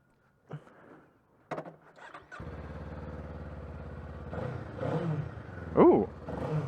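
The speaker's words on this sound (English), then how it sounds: "let's start these three bikes up real quick before going out on the ride" Kawasaki Eliminator 500 motorcycle engine starting up close: a brief crank, then the engine catches and settles into a steady idle, with a short rev near the end.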